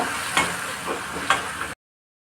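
Chopped tomatoes fry with onion in oil for a dry Bombay duck dish, giving a soft crackling sizzle with a couple of brief stirring bursts before the sound cuts to silence.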